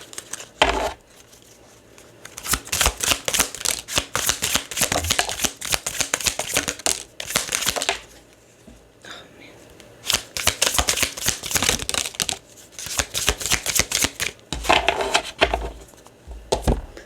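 Burning Hearts Love Oracle cards riffle and slap in long busy bursts of shuffling, loud and close, broken by brief quiet pauses between rounds.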